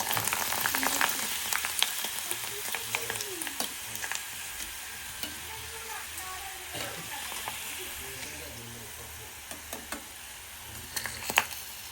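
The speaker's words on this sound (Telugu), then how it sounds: "మనమైతే గొట్టాలు ఫ్రై చేసుకున్నాం." Gottalu fry in a pan with a steady crackling sizzle, punctuated by sharp clicks and scrapes of stirring that recur through the stretch and grow louder near the end.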